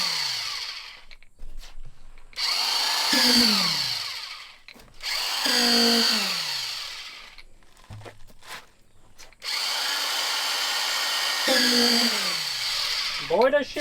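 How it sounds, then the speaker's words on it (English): A concrete vibrator runs in fresh concrete, its loud motor whine rising and falling in several separate bursts with short pauses between them, and voices come through in the gaps. "This is for making the concrete flow where we want it to flow."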